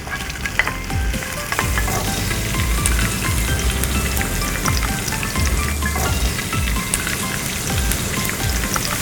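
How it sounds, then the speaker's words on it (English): Garlic, ginger, chilies and spring onion stir-fry in hot oil, a dense continuous sizzle and crackle up close, with occasional scrapes and knocks of a utensil against the pan. "Oh, this combination stir frying smells so amazing."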